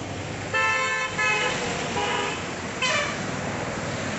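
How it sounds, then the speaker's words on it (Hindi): Dense road traffic on a route from Indore to Omkareshwar through hills, with car horns honking in several bursts of toots over a steady roadway rumble, fairly close and loud. "यहाँ पर जो ट्रैफिक है ना यार, काफ़ी ज़्यादा है"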